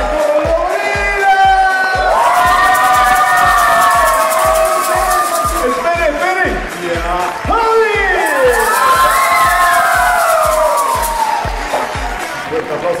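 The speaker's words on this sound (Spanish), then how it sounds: "Señoras y señores, recibamos un fuerte aplauso a la colorida" An audience at a Christmas festival cheers and shouts with excited children's voices over steady rhythmic beats, loud and continuous, with clapping mixed into the crowd noise.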